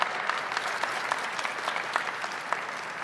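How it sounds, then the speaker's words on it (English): An audience at a Pennsylvania Christmas tree lighting applauds First Lady Lori Shapiro, a steady crowd of clapping hands with a few sharper claps standing out, sustained and fairly close. "Let's give another round of applause for our wonderful First Lady"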